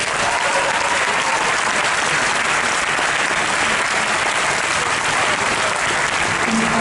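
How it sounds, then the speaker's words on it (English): A packed cinema audience at a film festival premiere claps loudly and continuously, a thick wall of applause that stays level and unbroken throughout, with no talking. "Put your hands together for Olivia Howe."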